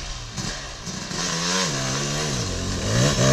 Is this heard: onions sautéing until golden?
no